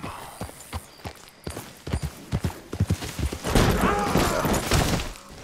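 Horse hooves clip-clop in the video game Red Dead Redemption 2, a run of sharp, fairly close hoofbeats in uneven rhythm that build into a denser, louder rush of movement and wind near the end.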